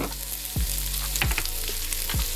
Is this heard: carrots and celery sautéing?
yes